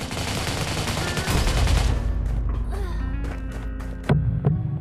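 Rapid automatic gunfire during an attack in Raider Six, dense loud bursts of shots at first, thinning to scattered sharper cracks and a couple of heavy impacts toward the end.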